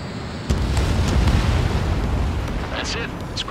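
An enemy bomber explodes after being shot down in the Ace Combat 7 flight game. A sudden loud boom is followed by a sustained, rumbling roar that stays heavy for a few seconds.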